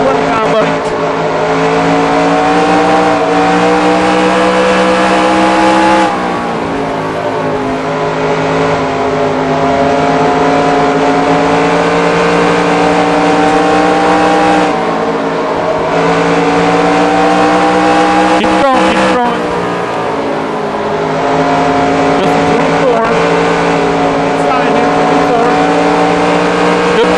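Race car engines drone steadily around Dover in NR2003, a loud continuous whine with harmonic tones shifting up and down as cars lap in close traffic, with a person talking over the engine noise throughout.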